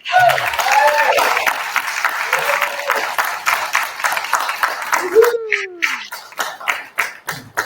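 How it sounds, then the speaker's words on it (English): A church congregation applauds with dense, steady clapping that thins into scattered claps, while a dog yelps and howls over it and a voice speaks briefly. "let's give them a round of applause"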